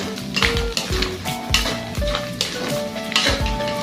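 Bopis fries in its own oil in a pan, sizzling steadily while a utensil scrapes and stirs in rhythmic strokes, close and clear with no talking.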